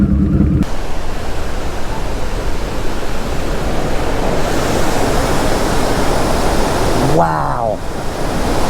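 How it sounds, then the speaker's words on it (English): Heavy storm surf pounding a coastline near a park, a broad continuous roar of crashing waves and wind close by, with an excited voice briefly exclaiming near the end. "this is what a good storm will produce"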